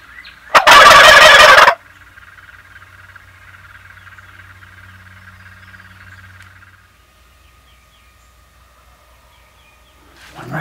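Wild spring turkey gobbles once, a loud close rattling burst lasting about a second, followed by quiet outdoor ambience with faint insect-like buzzing and a soft noise at the end.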